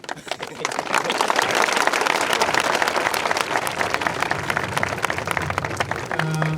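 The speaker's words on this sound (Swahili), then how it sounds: "Tupige makofi vizuri." A school event audience breaks into sustained applause, dense steady clapping that carries loudly from start to finish, with a few voices mixed in near the end.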